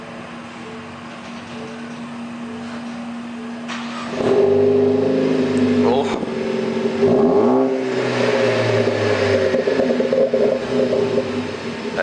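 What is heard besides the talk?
2016 Ford Focus ST engine starting with Ford Performance exhaust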